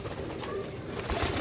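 Pigeons kept in a loft coo softly at close range, low murmuring calls under a noisy background, with no speech.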